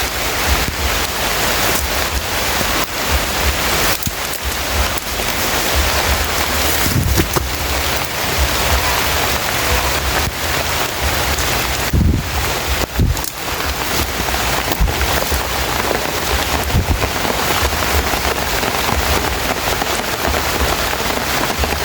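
Heavy rain pours down outdoors in a dense, constant roar that holds steady throughout, with gusts of wind buffeting the microphone and a few louder thumps.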